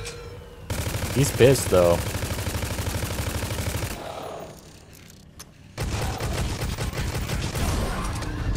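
Rapid automatic gunfire from Necromunda: Hired Gun hammers in sustained bursts, loud and close, breaking off briefly before a second heavy burst, with someone speaking over the shooting.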